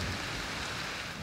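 Heavy rain pours steadily during a mountain trek, a dense, unbroken hiss of falling water that fills the whole moment without pause.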